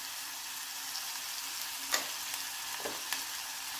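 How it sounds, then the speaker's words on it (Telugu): Cauliflower, green chilli, sweet corn, carrot and tomato frying in a pan, an even crackling sizzle with a few sharp spatula scrapes and taps. "వీటన్నిటిని ఫ్రై చేసుకోవాలి."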